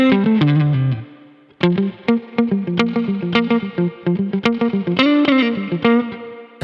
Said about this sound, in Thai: แล้วเราก็จะมีรีเวิร์บที่ใช้เป็นเพลท small plate